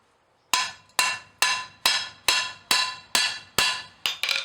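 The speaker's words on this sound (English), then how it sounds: "your first several hammer blows, you want to be good, solid, setting hammer blows" Hammer strikes setting a rivet on a hand-forged skillet at an anvil: nine solid, evenly spaced ringing blows, loud and close, each with a bright metallic ring that decays before the next, the last two coming quicker.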